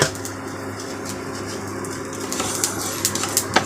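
Mustard, cumin and fenugreek seeds splutter in hot oil for a karamcha pickle, a steady close crackle that builds into sharper, more frequent pops toward the end, with no talking.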